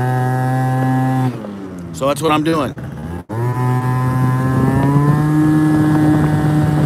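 A moped engine droning steadily while riding to an ATM, with a sustained buzzing tone that rises slightly in pitch, buffeted by wind noise, while someone talks over it.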